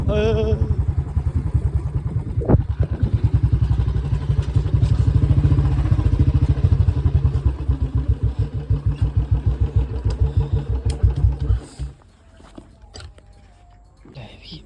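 A Royal Enfield Bullet motorcycle engine thumps steadily up close, with a deep, even single-cylinder beat that runs loud and then cuts off near the end.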